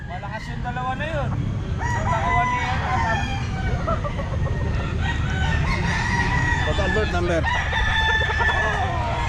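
A rooster crows repeatedly amid a busy pet market, its calls rising over dense crowd noise, clucking fowl and general chatter, loud and close throughout.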